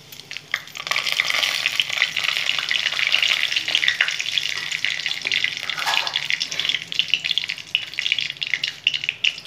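Loud, continuous sizzling of nigella seeds and dried red chillies frying in hot oil in a kadai, a bright crackling hiss with occasional stirring scrapes, close and steady.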